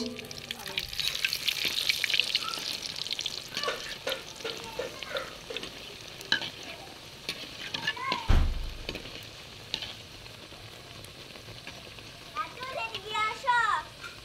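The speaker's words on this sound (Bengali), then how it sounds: "এরপর চুলায় একটা কড়াইয়ে তেল গরম হয়ে আসলে ভাজি করতে দিব।" Dough snacks deep frying in hot oil in a wok, a steady bright sizzle running throughout with occasional stirring clatter and a brief knock near the middle; soft speech sounds appear intermittently.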